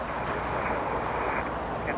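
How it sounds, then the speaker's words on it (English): McDonnell Douglas MD-11 airliner, about 30 years old, arriving at Los Angeles International Airport, a continuous loud rumbling roar with windy noise and no distinct breaks. "MD-11 coming in, only 30 years of age, not too shabby"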